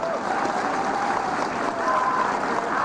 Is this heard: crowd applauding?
yes